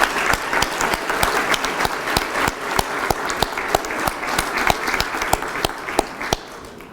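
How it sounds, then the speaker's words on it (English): An awards-ceremony audience claps for a group of seniors, steady broadband applause with a few sharp, separate claps standing out in a regular rhythm, fairly close and lively, with no talking. "One more round of applause for this group."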